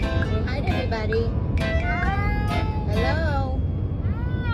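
A little kitten meows repeatedly, close and fairly loud, in short rising and falling cries, while a person talks over it.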